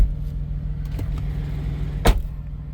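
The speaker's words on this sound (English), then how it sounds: "Go ahead and shut this door." A Kenworth T680 truck door, on a 2026 model, slams shut with a single sharp thud near the end, over a steady low idle hum from the truck.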